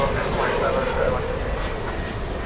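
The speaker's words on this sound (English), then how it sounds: "It's American 1446 going to Spokane, Washington, an Airbus" An American Airlines Airbus A321 jet airliner, flight 1446 bound for Spokane, roars past at night at DFW Airport, a loud, steady broadband engine rumble and whine throughout.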